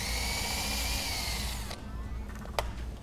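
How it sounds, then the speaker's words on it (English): Power drill boring through a metal bracket on a boat trailer bunk, a loud continuous whine that cuts off partway, followed by a quieter motor hum and a sharp click. "Go ahead and drill through."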